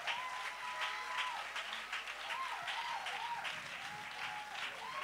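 A church congregation claps in praise, a steady, fairly faint wash of applause running throughout, with a sustained voice or musical tone carrying over it.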